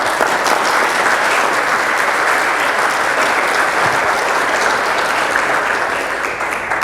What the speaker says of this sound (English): please give a big applause to our speaker.